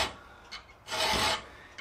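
Short metal file strokes cutting a 60-degree bevel on a steel chasing tool: a faint brief rasp, then one louder, longer close scrape, with no talk.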